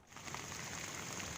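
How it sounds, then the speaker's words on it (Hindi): Heavy evening rain in Barmer, Rajasthan, a steady dense hiss of downpour that stays loud and even throughout, with no voices over it. "राजस्थान के बाड़मेर जिले में रविवार देर शाम तेज बारिश से लोगों का जनजीवन अस्त व्यस्त हो गया।"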